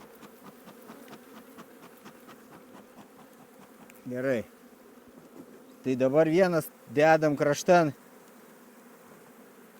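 Angry bees swarm around an opened beehive, a constant close buzz running under a man's speech, with several sharper, louder bursts as individual bees zip near.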